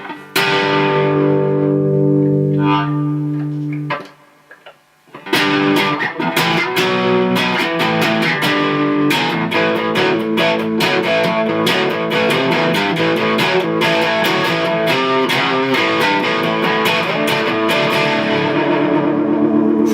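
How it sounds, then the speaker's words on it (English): A 1967 Watkins Rapier 33 electric guitar with overdrive plays a sustained chord, pauses briefly, then launches into fast, gritty strummed riffs that keep going loud and steady. "This is with a little bit of overdrive on there."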